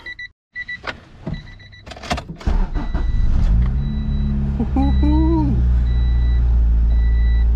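An old Honda car is started: chimes and clicks with brief talk come first, then the starter cranks and the engine catches and revs up before settling into a loud, steady close idle.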